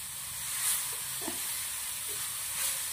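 Raw papaya sambharo cooks in a pan over a low gas flame, giving a steady, soft hiss of steam and gentle sizzling with faint stirring clinks and no voices.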